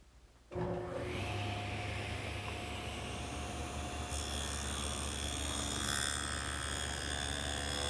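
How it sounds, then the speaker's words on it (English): A power tool cuts a 3/8 inch deep groove along wooden rails, a steady loud whine and rushing noise that starts abruptly and holds constant for several seconds, close up with no talking. "I need to make that cut on every one of these rails so that later it'll accept my panels"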